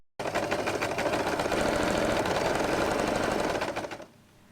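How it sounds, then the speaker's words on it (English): A sewing machine stitches around layers of fabric for a pom-pom bow, a loud rapid mechanical chatter running steadily for about four seconds before stopping abruptly. "Next, proceed to sew all around the layers of fabric,"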